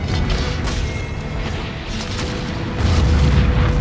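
Cannon fire in Empire: Total War, heard as a steady rumble of distant booms and crashes that swell louder toward the end, with no talk over it.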